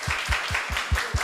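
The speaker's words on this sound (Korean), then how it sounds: "또 뜨겁게도 박수를 쳐주네요, 우리 친구들이" Middle-school students applaud a comedian giving a career talk in their school hall, a steady wash of clapping with recurring low thumps, moderately loud and without speech.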